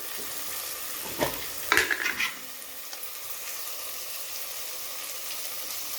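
Ghee sizzles in a hot cooking pan while being stirred, with a few brief crackling bursts early on over a steady, fairly quiet frying hiss.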